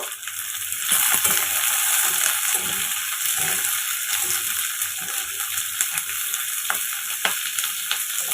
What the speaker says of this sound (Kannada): ಸ್ವಲ್ಪ ಫ್ರೈ ಆದಮೇಲೆ ಈರುಳ್ಳಿನೂ ಕ್ಯಾಪ್ಸಿಕಮ್ಮು ಕಟ್ ಮಾಡಿ ಹಾಕ್ಕೊಬೇಕು.